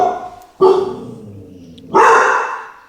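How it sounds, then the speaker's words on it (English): A dog barks twice, loud and close, each bark sharp then trailing off, with a pause of over a second between them. "That's my dog."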